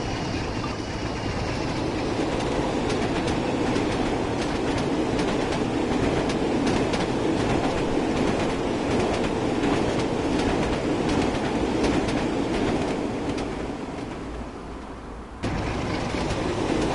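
Train running at night in Train Sim World on a Northern Trans Pennine route, played on PlayStation 4 Pro: a steady, loud rumble of wheels and clickety-clack on rails that holds almost unbroken, easing slightly near the end before resuming.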